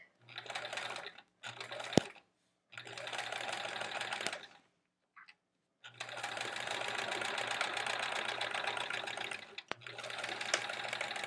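A sewing machine stitches a quilt block in close, rapid mechanical runs, several bursts of whirring, chattering needle action broken by short pauses and a few sharp clicks.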